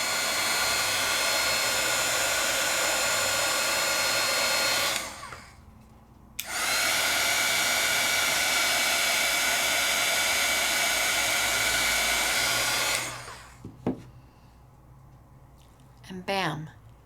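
A heat tool blows hot air to melt embossing powder, a loud steady whooshing drone running twice with a short pause between, then cutting off before a few clicks and faint handling sounds.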